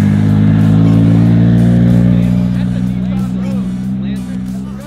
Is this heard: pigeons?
no